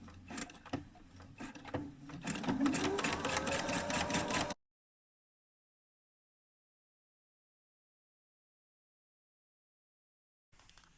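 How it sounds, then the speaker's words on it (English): A sewing machine runs a steady line of stitches along the edge of a trouser pocket facing, loud and close for about four seconds, then cuts out into silence before a brief burst of motor noise at the end. "we want to stitch this around about 2 to 3 millimeters from the edge of this facing"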